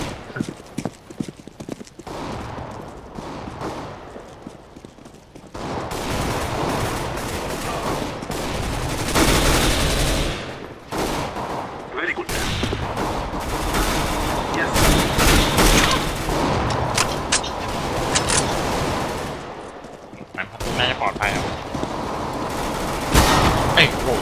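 Rapid bursts of gunfire in Counter-Strike: Global Offensive, loud and sustained through most of the stretch, with dense overlapping shots and some background game noise, under occasional talk.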